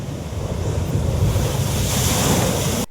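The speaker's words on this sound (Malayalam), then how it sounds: "തീരദേശ റോഡിലേക്ക് തിരമാലകൾ അടിച്ചു കയറുകയാണ്" Strong sea waves surge onto the coastal road at Arattupuzha on the Alappuzha coast during severe sea erosion, a loud, steady roar of surf under heavy wind buffeting with no break.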